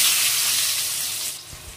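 Onions drop into hot oil in a home kitchen and fry with a steady bright sizzle, loud at first and easing slightly, a faint low clatter near the end.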